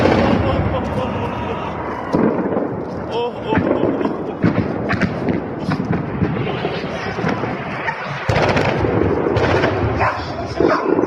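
Missile blasts during an attack on Tehran: a loud, dense stream of booming explosions and cracking bursts over a noisy street, with excited voices shouting throughout and a dog barking.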